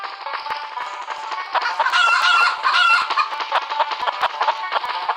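Cartoonish chickens cluck and squawk in a Stickman chicken-catching video game, a dense, busy run of bright clucks that swells louder midway, with no talk over it.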